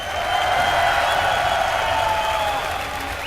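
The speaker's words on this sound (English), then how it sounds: "let's hear a cheer for the player who started off the day 2-0, now tied 2-2" A large crowd at a StarCraft II tournament match at MLG Columbus 2011 cheers and applauds steadily, a dense roar of claps and shouts holding loud throughout.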